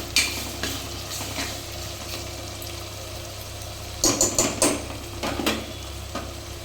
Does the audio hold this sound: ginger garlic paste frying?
yes